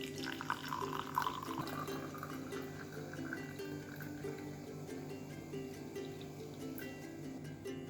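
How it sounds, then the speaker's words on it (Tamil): Homemade tulsi and mint herbal kashayam is poured through a strainer, a soft, steady trickle of liquid close by with faint clinks, low and continuous throughout. "இந்த நம்ம வடிகட்டிக்குவோம்"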